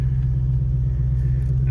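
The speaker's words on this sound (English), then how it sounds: "just move the car up front because it's a lot easier" A car's engine rumbles steadily at low speed while being moved forward under a carport, a close, even drone with no talking.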